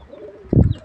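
An Arka Tepe pigeon gives a single short, low coo up close, after a moment of quiet background.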